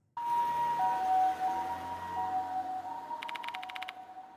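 Ambulance siren effect from the video game Death Mark 2, a sustained wailing tone that holds loud throughout, joined near the end by a quick burst of rapid electronic pulses.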